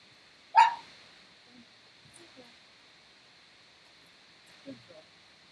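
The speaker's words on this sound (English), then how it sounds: "Dogs freaking out at other dogs." Dog barking at other dogs, a single loud sharp bark up close followed by faint distant yips and whimpers over a steady background hum.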